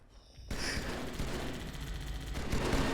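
Gunfire in the Halo 2 E3 demo bursts in after a short quiet start, then rattles on as dense, fairly loud automatic fire, with no voices.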